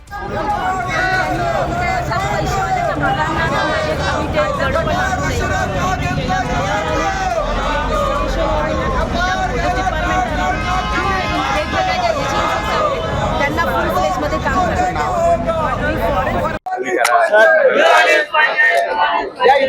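A street protest crowd of lawyers marching in Sambhajinagar, a loud, dense hubbub of many voices shouting and chanting continuously, with a brief break near the end before the roar resumes close by.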